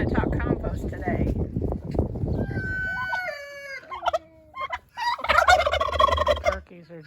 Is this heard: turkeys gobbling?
yes